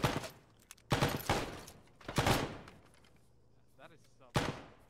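Sporadic gunfire from a field bunker in the Arma video game, four or five loud, separate gunshot bursts spaced a second or more apart, with echoing tails and a voice talking quietly between them.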